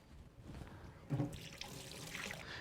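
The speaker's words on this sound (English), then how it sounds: "I'm going to wash my hands up real quick." Hands being washed under a running kitchen tap: a faint, steady hiss of flowing water with a brief louder splash near the middle, with no talking.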